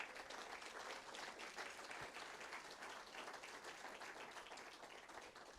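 A church congregation claps and applauds steadily, a dense sustained wash of hand claps that holds at an even level from start to finish.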